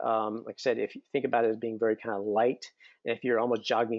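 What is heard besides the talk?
No everyday noise stands out behind the speech.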